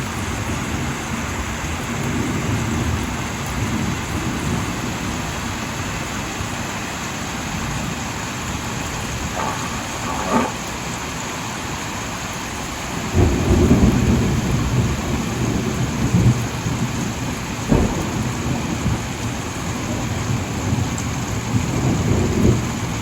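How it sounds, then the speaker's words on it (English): A fierce thunderstorm at Lake Monduran: steady heavy rain drums loudly for the whole stretch while deep rumbles of thunder roll in and swell partway through. "but the storms were quite fierce."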